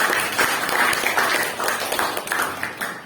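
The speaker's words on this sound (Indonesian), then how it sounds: "beri aplaus untuk kelompok yang sebelah sini" Classroom audience applauding for a student group, a steady patter of many hands clapping at close range for a few seconds, with faint voices mixed in.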